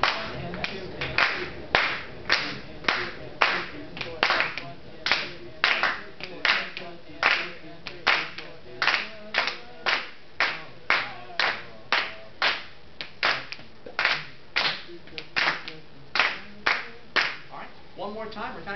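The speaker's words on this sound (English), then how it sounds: "we're kind of getting a little bit of rushing in our clapping" A high school trombone section claps out rhythms together in steady, evenly spaced sharp group claps, fairly close, while a voice talks quietly underneath.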